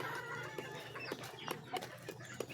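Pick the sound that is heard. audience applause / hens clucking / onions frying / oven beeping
hens clucking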